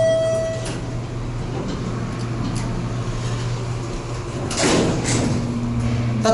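An elevator door slides shut inside a modernized Otis Series 1 traction elevator, refitted by Kone, in a mall parking garage. The door slides briefly over a steady machinery hum, near and moderately loud.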